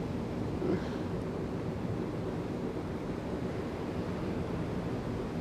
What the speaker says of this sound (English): the waves are almost hitting the sand dunes because the onshore wind pushes the water in like a wall of water